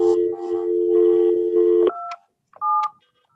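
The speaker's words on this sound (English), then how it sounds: "I'm going to call her right now." An office speakerphone in a courtroom setting dials out, giving a steady tone followed by a quick series of distinct touch-tone beeps, clear and close, with no talking over it.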